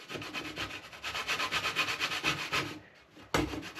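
A nut is grated by hand on a grater for a Jamaican black cake, with rapid rhythmic rasping strokes close up, a short pause, then one more scrape.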